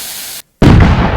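In the PC game Firework Simulator, a rocket firework's loud hiss cuts to a brief silence, then a sharp, close explosive burst bursts out and crackles away.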